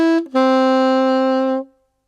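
Saxophone playing a phrase of a solo from a theme tune: a brief opening note, then one long bright sustained tone that holds steadily for over a second and stops cleanly, close and alone.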